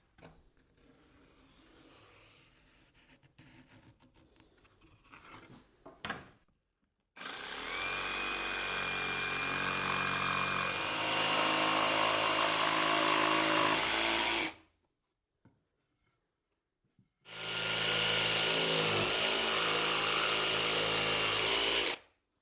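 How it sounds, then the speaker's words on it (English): A jigsaw rough-cuts a traced pattern out of wood for a tall-handled step stool, running loud and steady in two long bursts separated by a brief pause, after some quieter handling noises at the start. "with the jigsaw"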